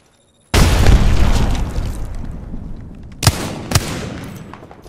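A grenade goes off in the Apex Legends video game: a sudden loud, close blast starting half a second in, followed by a long rumbling roar that slowly decays, with two sharp bangs or pops near the end.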